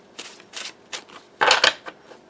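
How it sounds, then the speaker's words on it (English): A deck of nature-themed playing cards being riffle shuffled, several quick papery bursts of riffling close up, the loudest in the middle, with no talking. "I love the way these shuffle. Like I could literally shuffle these all day."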